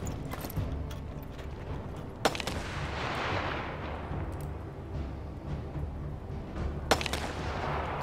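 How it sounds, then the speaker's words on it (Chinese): Gunfire in the war survival video game This War of Mine: two sharp, isolated shots several seconds apart cut through a steady ambient hiss, with no voices. "有人在开枪啊！"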